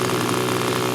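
A small nitro model airplane engine runs steadily on the ground with a constant buzzing drone, close and loud, with no voices.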